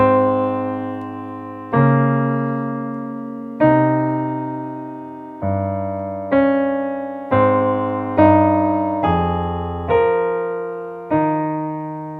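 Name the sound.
piano melody with bass line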